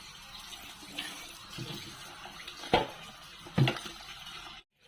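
Tap water runs steadily while food is washed at a sink in a home kitchen, a continuous mid-level splash with a few louder clattering bumps near the end, then a sudden cutoff.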